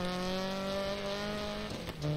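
A Subaru Impreza sliding through a handbrake turn in the Dirt Rally game, its engine droning steadily before tires scrub and skid briefly near the end, loud and close with no voices.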